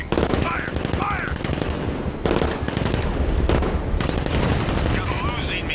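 Loud, sustained automatic gunfire rattles in rapid bursts during a Batman: Arkham Knight battle on Xbox Series S, with shouted voices breaking through the shooting.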